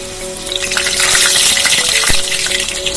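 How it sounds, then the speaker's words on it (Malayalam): An egg paratha with folded sides fries in a pan, giving a loud, steady, close sizzle that runs throughout with a few small pops and no talk. "ഇനി ഇതിൻ്റെ സൈഡെല്ലാം ഫോൾഡ് ചെയ്തിട്ട് 7 to 10 മിനിറ്റ്സ് നമുക്ക് ഫ്രൈ ചെയ്തെടുക്കാം"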